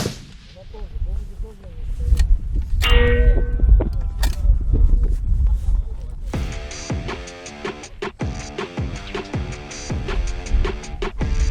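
Gunfire rings out repeatedly outdoors at a long-range shooting championship, sharp reports followed by a metallic ringing tone from a struck steel gong target that lingers after an impact.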